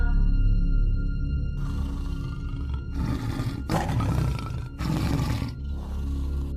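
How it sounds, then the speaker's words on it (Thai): A deep, rumbling tiger roar from a Thai horror story repeats in several heavy bursts over a low droning background, loud and close. "ทันใดนั้นเอง พรานขอนได้ยินเสียงคำราม"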